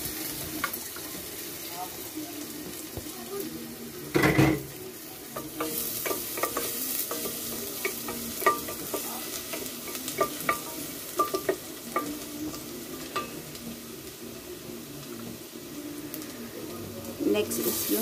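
Garlic fries in melted butter in a pan with a steady sizzle and spoon or spatula stirring, a sharp clatter near the start, followed by repeated scraping bursts.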